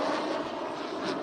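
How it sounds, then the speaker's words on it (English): A fixed-wing plane flies overhead, correcting its course for a slight 5 to 10 mph wind, its engine a steady broadband drone that holds even and moderately loud throughout, with no talk. "You can see the plane there going left, right, correcting the wind turbulence."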